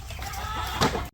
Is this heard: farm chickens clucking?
yes